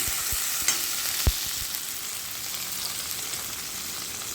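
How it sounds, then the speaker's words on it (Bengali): Ginger, green chili and tomato paste being stirred in a hot pan, a soft continuous sizzle with a few sharp spoon knocks and scrapes early on, close and otherwise steady, no talking. "কাঁচা লঙ্কা টমেটো পেস্টটা দিয়ে ভালো করে একটু নাড়াচাড়া করব"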